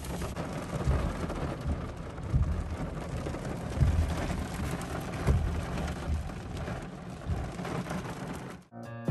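Large hail mixed with snow-sized lumps falls outdoors in a storm, a dense continuous patter with scattered louder thuds and low rumbling, close and steady throughout with no talking.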